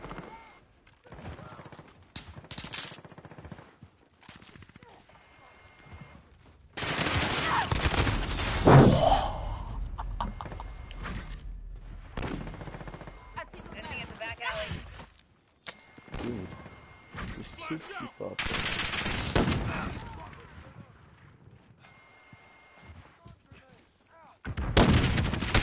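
Gunfire in the video game Call of Duty on the Shoot the Ship map, with several loud, sustained bursts of shots broken by quieter stretches of game noise and occasional talk.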